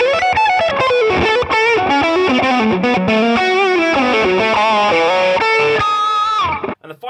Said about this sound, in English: if you stack it with the compressor, you can get quite the distortion